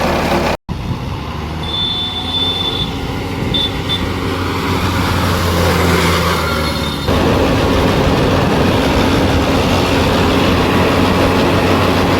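A VST Shakti MT 270 tractor with a faulty gearbox runs close by, a loud, steady mechanical drone with humming tones and a thin whine, roughening slightly partway through.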